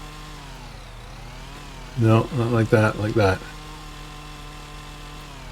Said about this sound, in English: I'm going to break out the chainsaw. We're going to clear this little shrub out here.